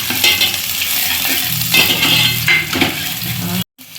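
Onions browned in a pan sizzle and fry as green chillies are added and stirred, with a spoon scraping and clinking against the metal pan. The hiss stays steady and close until it cuts out briefly near the end.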